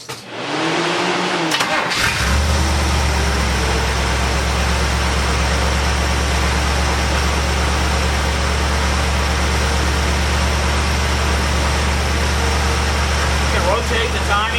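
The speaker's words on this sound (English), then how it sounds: "Now we'll go ahead and start the car," A car engine cranks briefly, catches, and settles into a loud, steady idle that runs on without pause.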